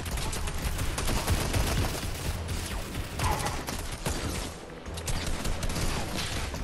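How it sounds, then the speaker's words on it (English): IO guards in Fortnite firing their laser weapons: a dense, continuous barrage of rapid shots and impacts that stays loud and busy for the whole stretch, with a brief lull near the middle. "The IO guards are lasering me"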